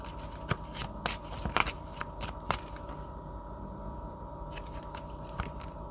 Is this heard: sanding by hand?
no